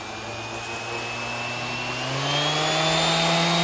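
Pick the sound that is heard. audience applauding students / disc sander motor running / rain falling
disc sander motor running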